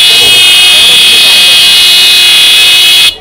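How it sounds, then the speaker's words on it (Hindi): A loud electric vehicle horn sounds in one continuous blaring tone for about three seconds while being tested at a roadside market stall selling horns, then cuts off abruptly. "देखो गाड़ी के ऊपर हॉर्न लगा रखे और यहाँ पे बेचते हैं अंकल जी हॉर्न"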